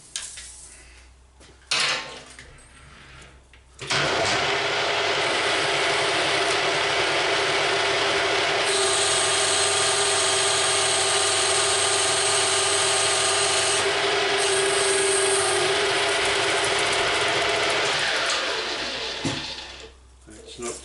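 A metal lathe cuts old material, giving a loud, steady grinding and scraping whine that runs for about fifteen seconds, close to the microphone, with clatter as the cut starts and stops.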